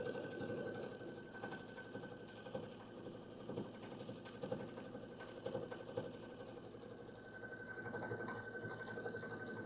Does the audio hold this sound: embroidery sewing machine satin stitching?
yes